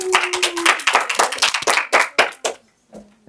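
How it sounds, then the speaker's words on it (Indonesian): A classroom group claps together in quick, uneven bursts that thin out and stop, with a few voices mixed in near the end. "Tepuk tangan dulu buat Raffi."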